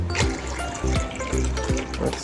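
Water is poured gently, little by little, into ripe plantain chin chin dough, giving a steady close-up trickling and splashing that runs throughout.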